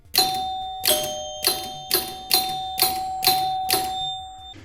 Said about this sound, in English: First time in a long time this guy's had some chimes in it.